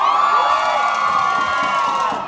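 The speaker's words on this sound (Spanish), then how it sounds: "A ver, un grito que se escuche fuerte." A large crowd of high-school students at a school event shouts loudly in unison, a sustained sustained roar of voices with high cheering tones that holds steady before tapering off.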